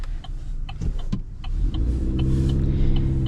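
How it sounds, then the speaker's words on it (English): A 2026 Chevy Silverado 1500 WT with a turbo engine accelerates, heard from inside the cab as a low engine drone that rises and thickens into a steady, strained hum after a few clicks. "This turbo engine's kind of rowdy."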